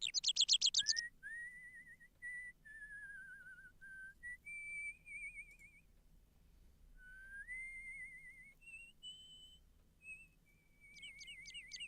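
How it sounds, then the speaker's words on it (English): Whistling in the Broken Sword video game, set in an Irish village: a clear, fairly faint solo melody of sliding, warbling notes, opening and closing with quick trilled flourishes, over a quiet background hum. "That's some lovely whistling tunes"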